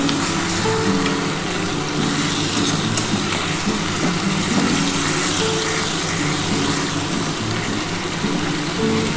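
Hot spiced water being poured into a pressure cooker, a loud continuous gushing and splashing pour that runs steadily throughout, close up and without speech.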